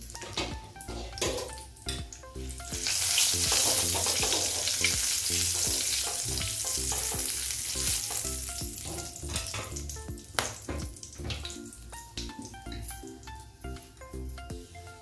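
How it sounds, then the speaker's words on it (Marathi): Whole cloves, cinnamon and bay leaves sizzle hard in hot oil in a pan, a steady close crackle with scraping spoon strokes and light clinks of metal throughout, no voices. "यामध्ये आपल्याला लवंग, दालचिनी आणि तमालपत्र घालून घ्यायचे"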